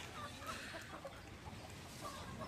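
Chickens cluck faintly in a pen shared with goats, a low scattered murmur of short calls under steady background noise, with no voices.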